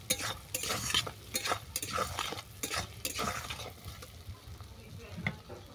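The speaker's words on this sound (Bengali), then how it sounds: "সরষের তেলের মধ্যে মাছের তেল ভাজার কারণে তেলের কাতটা উঠছে" Fish fat sizzling in mustard oil in a pan while a spatula stirs and scrapes in quick repeated strokes, close and moderately loud.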